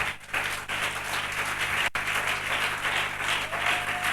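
Church congregation applauding at a morning worship service, steady dense clapping that holds loud and continuous throughout with a brief dip near the middle.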